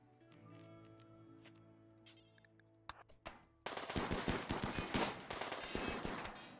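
Rapid gunfire from a RimWorld firefight comes in dense bursts of shots, loud and close, following a quieter stretch of hums and isolated clinks.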